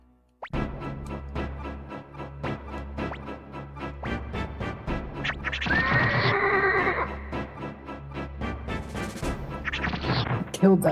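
A horse whinnies loudly in the Suikoden II video game, set among rhythmic sharp hits and crashing battle effects in a dense game soundtrack.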